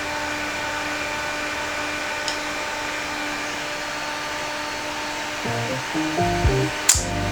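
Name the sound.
electric fan blowing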